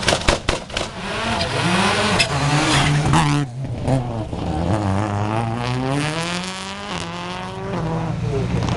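A Skoda Octavia rally car at the 2014 Imatra rallisprint revs hard and accelerates away, its engine note climbing through gears with loud pops, close at first and then slightly farther, while a commentator talks over it.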